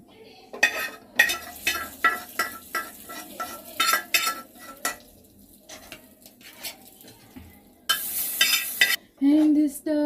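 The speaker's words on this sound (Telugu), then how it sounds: "తాలింపు కూడా వేస్తున్నాం." Spices for tempering crackle and sizzle in hot oil for Ugadi pulihora, with a spoon stirring and scraping the pan in uneven bursts and a sharp hiss near the end.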